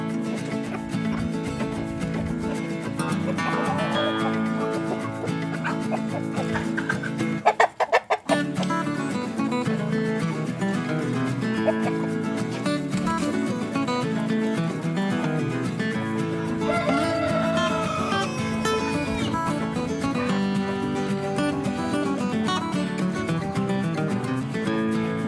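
Hens clucking and calling steadily as they are let out into a grassy paddock after a week shut in a new coop, their busy chatter running continuously over a constant background.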